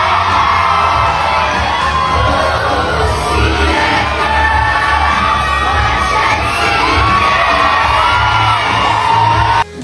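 Crowd at a Sunday night party screaming and cheering loudly as actress Bea Alonzo dances, a dense, sustained roar of shrieks and whoops that holds steady and then cuts off abruptly at the end.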